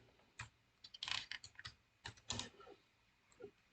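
Quiet typing on a computer keyboard while laying out a brochure: irregular clusters of close, crisp keystrokes with short pauses between the bursts and no talking.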